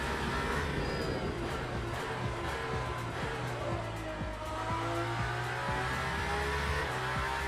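A racing car engine in the video game Le Mans Ultimate drones steadily with a brief tyre squeal from locked brakes, the engine pitch sliding down as it slows.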